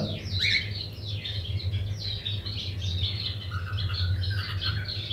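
Lutino cockatiels in a breeding aviary, giving repeated shrill squawks and chirps in quick overlapping bursts over a constant low mechanical hum, fairly close and loud, with no talking.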